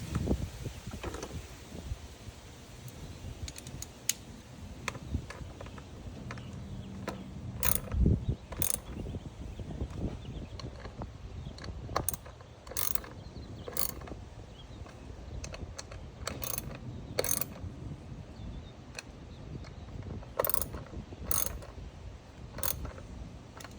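Ratchet wrench clicking while tightening spark plugs on a 2020 Hyundai Elantra, with quick bursts of close, crisp ratcheting ticks separated by quiet pauses and light handling of tools and parts, no speech.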